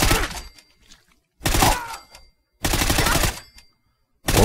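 A modded HoneyBadger rifle in Fallout 4 fires three loud, close bursts of automatic fire, each about a second long and separated by short silences.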